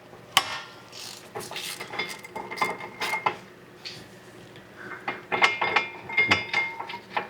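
A ratchet loosening brake caliper bracket bolts that are not rusted and come out easily, with bursts of rapid clicking pawl strokes, metallic clinks and pauses between sets, close and clear.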